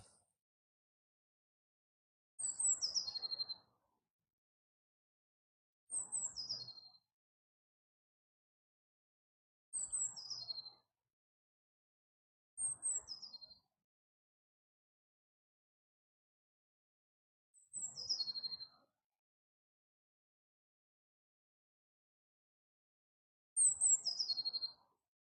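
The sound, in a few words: unidentified bird singing in woods by a creek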